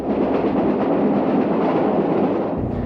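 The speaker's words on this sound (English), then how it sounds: "excursion trains are rolling once again throughout the state" An excursion train rolling on rails through rural Oklahoma makes a loud, continuous rumbling roar with faint rhythmic clatter, heard close and alone for the whole stretch.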